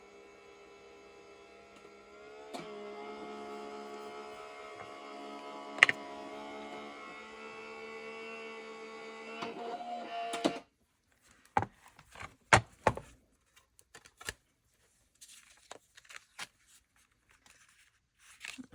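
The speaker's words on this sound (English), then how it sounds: "I'm just putting it through my die cut machine." An electric die-cutting machine feeds an embossed card through its rollers with a steady motorized hum for about ten seconds. It then stops, and scattered clicks and taps follow in a quiet room.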